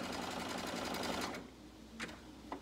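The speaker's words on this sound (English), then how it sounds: "It's easy to see with the light and the dark fabric how I'm sewing along there." A sewing machine runs fast stitching light and dark fabric, a close, steady whirr that stops after a second and a half, followed by a couple of faint clicks.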